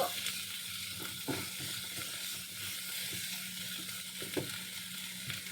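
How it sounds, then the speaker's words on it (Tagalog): Onion sizzling steadily as it fries in a pan while a Paneer Green Peace Indian dish is cooked, a continuous soft hiss with occasional faint clicks and stirs, no talking. "Habang pinapaluto natin yung ating onion"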